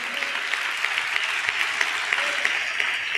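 A church congregation claps steadily in praise, giving a dense, even wash of applause with faint voices mixed in underneath.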